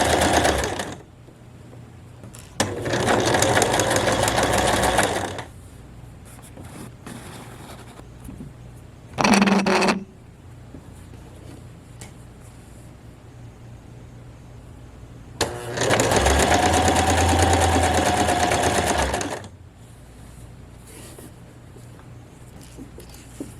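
A home sewing machine runs stitching a shirt side seam during an alteration, in three bursts: a long whirring run, a brief stab, then another long run, separated by quiet pauses.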